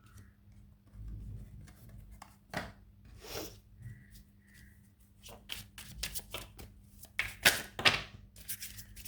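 Animal spirit oracle cards are shuffled by hand in a quiet room, with repeated soft riffling bursts and sharp snapping flicks of the deck, irregular and close, growing busier near the end.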